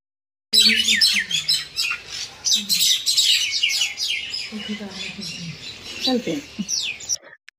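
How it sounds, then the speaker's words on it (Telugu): Birds in a residential colony squabble in the morning with dense, loud, overlapping chirps, tweets and harsh squawks close by, continuing in busy bursts throughout. "మా కాలనీలో పక్షులు చాలా ఎక్కువ ఉంటాయండి. మార్నింగే ఎందుకో అవి గొడవ పడుతున్నాయన్నమాట."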